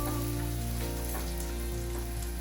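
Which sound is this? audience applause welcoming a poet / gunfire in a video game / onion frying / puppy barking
onion frying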